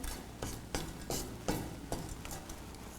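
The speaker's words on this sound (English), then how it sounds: "So just gonna give it a quick toast it here in the pan." Mexican cinnamon is toasted in a pan for mole poblano, with a soft frying hiss throughout. Several distinct scraping and knocking strokes land about every half second, fairly close.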